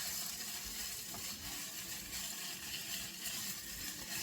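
Zuppa Toscana ingredients brown in a pot with a steady, fairly quiet sizzle. The hissing crackle holds even throughout, with no voices.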